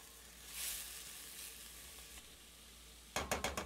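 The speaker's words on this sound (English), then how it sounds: "Now add in the cabbage and onions. Stir again." Cabbage, onions and frozen vegetables cook in a pan with a quiet, soft sizzle, then a burst of four or five sharp scraping knocks as they are stirred near the end.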